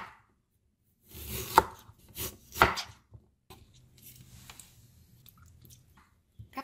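A knife chops through fresh ginger on a cutting board, cutting thick slices: a few crisp, separate thunks spaced apart, close and fairly quiet, followed by softer handling noises.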